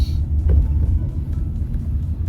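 Inside a car on the road near Mehsi approaching Muzaffarpur, Bihar, a deep, steady engine and road rumble carries some passing-traffic swells and faint higher noises, with no talking.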